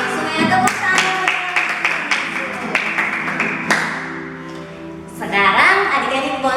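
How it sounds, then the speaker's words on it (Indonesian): Children at a Sunday school service clap their hands in a lively, uneven burst of claps mixed with voices and chatter, lasting several seconds close to the listener. "Oke, semuanya tepuk tangan."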